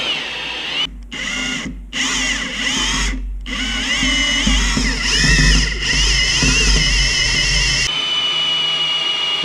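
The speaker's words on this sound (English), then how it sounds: "You can use a screwdriver bit and a drill. Run the oil pump a bit." A power drill with a screwdriver bit whines at high speed in several bursts with brief pauses, then runs steadily for several seconds before stopping, loud and close, driving a Jeep ZJ engine's oil pump to prime it.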